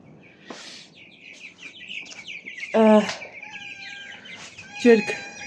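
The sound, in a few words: chickens clucking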